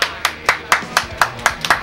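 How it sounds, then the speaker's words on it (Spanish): Eight sharp hand claps in a steady, evenly spaced rhythm, close and distinct, with no talking, as applause for a guest on a metal-themed cooking show. "Aplauso, chiquillos, aplauso."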